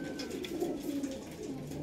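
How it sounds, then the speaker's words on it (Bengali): A breeding pair of pigeons, one male and one female, coo softly in a low, rolling, continuous murmur, faint and close. "বা হাতেরটা নর পায়রা, ডান হাতেরটা মাদি পায়রা"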